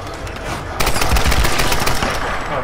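Rapid automatic gunfire in Tomb Raider Definitive Edition on PS4 crackles in a dense, continuous burst, loud and close, with no voices.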